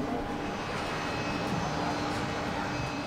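A fixed-wing airplane drones steadily at a distance, a faint continuous engine rumble and whine with no voices over it.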